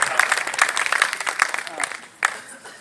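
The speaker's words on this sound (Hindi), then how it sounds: "एक बार इनके लिए जोरदार तालियां हो जाएंगी।" A live audience at a Hindi comedic poetry recital claps in a dense burst of applause, loud and close, with talk running over it and a sharp extra clap near the end.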